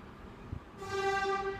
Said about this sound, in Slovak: A pozri, čo tu je, priamo vlak. Vlak tu chodí.